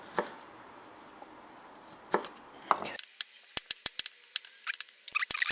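A knife chops broccoli into large pieces on a cutting board: after a quiet start, a run of crisp, close, fairly regular cuts, about a dozen sharp strikes.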